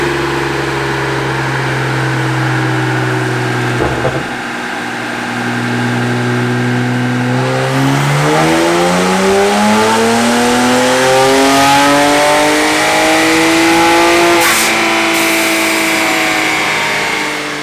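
A BMW 335i on an E30 blend with budget performance mods revs hard at full throttle, its loud engine note dipping, then sweeping steadily upward through the gears in a long, close pull.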